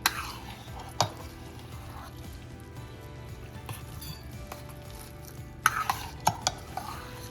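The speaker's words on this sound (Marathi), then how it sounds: "आता मी दही घालते ह्याच्यात" A spoon stirs curd into cooked rice in a pot, with a scrape at the start, another scrape about a second later, and a cluster of clinking stirs near the end over a quiet background.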